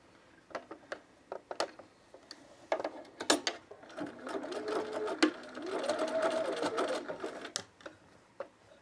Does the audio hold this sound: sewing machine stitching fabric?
yes